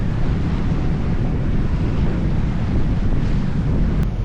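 Strong wind of about 25 knots roars across the microphone while a sailboat pushes through waves in the Whitsunday Passage on the Great Barrier Reef, a loud continuous buffeting blast with no voices.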